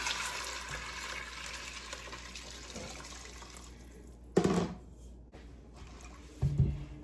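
Water runs steadily into a cooking pot, a continuous hissing pour, then stops, followed by a couple of clunks and knocks nearby.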